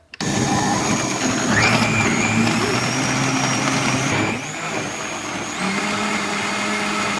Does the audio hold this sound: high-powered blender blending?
yes